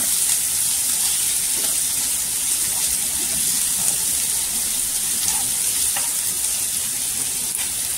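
Onions frying in a pan with bitter gourd for karela sabzi give a steady, loud sizzle with faint stirring scrapes running throughout.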